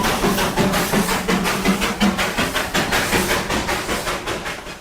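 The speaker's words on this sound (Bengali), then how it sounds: "দার্জিলিংয়ের ঐতিহ্যবাহী হেরিটেজ টয় ট্রেন এক অনন্য অনুভূতি।" Darjeeling heritage toy train running through the hills, a steady loud rolling rumble with a rapid regular clatter of wheels on rail joints and faint hiss throughout, close by and with no voices.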